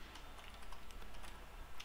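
Quiet, rapid, irregular clicking of keys pressed on a computer keyboard while entering hotkeys in Daz Studio, continuing steadily for about two seconds with no voices.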